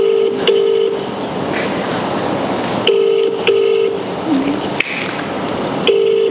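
Repeating telephone ringback tone of an outgoing call going unanswered, steady paired beeps recurring every few seconds over a busy room hum, with a brief tone-like blip midway.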